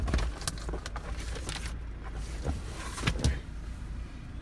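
Power windows on a 1999 Mazda MX-5 Miata whirring up and down, with short motor runs and faint clicks and thumps at the stops, close but quiet, no speech.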